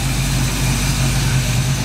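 A Firebird car engine idles close by with a steady, loud low-pitched rumble and even pulsing throughout.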